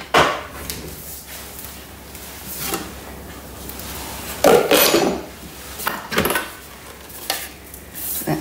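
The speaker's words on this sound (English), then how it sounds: "And we're going to scrape down the bowl and repeat." A spatula scraping down the inside of a Thermomix bowl while making apple crumble, several close, uneven scrapes and knocks, with a louder burst near the middle, no talking.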